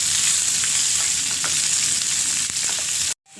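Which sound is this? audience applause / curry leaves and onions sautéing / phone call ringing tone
curry leaves and onions sautéing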